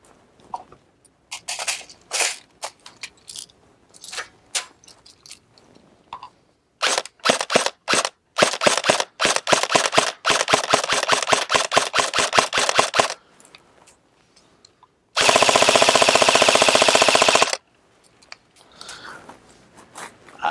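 An Elite Force M4 CQB airsoft rifle on an upgraded battery fires close and loud, first in scattered single shots, then a fast burst of rapid pops, and finally a sustained two-second full-auto stream, with no talking.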